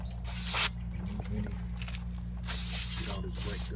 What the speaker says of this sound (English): we're just gonna spray this surface down with some brake clean